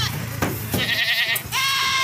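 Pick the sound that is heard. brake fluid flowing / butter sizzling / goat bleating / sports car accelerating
goat bleating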